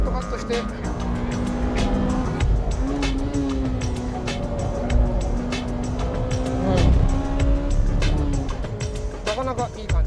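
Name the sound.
Honda Type R car engine at full throttle on a racing circuit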